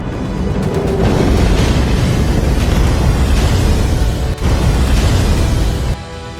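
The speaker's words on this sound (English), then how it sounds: "4 tons of explosives detonated in a massive blast." Four tons of explosives detonate in a massive wartime blast at the St Nazaire dock, a loud, sustained roaring boom of broad noise lasting several seconds before abruptly dropping away.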